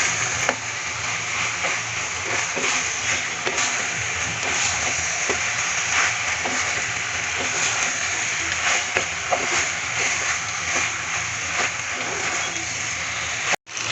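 Rinsed, drained boiled pasta is stirred in a pan for a homemade red-sauce pasta: a steady, close sizzling hiss runs throughout, broken by frequent light scraping and clicking strokes of the spoon, with no talking.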